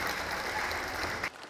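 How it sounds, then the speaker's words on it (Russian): An audience applauding as the jury enters a hall at a film festival, a dense, loud burst of clapping that cuts off abruptly near the end and leaves a quieter tail. "Появление в зале членов жюри всегда сопровождалось бурными овациями."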